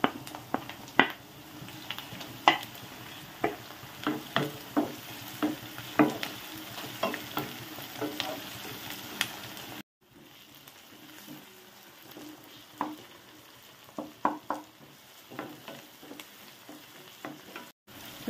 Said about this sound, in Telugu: వేగిని టమోటా వేస్తాను